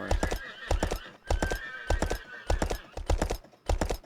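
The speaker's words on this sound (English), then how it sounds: "A lot of horses in this area." Horses in the video game Kingdoms give repeated whinnies alongside steady clip-clopping hooves, bursts coming in a rapid rhythm close by, with no talk over them.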